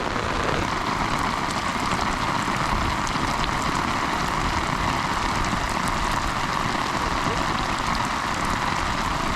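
Rain pours down steadily in Olipuram, a dense, even hiss of drops striking surfaces nearby that holds unbroken from start to finish with no voices.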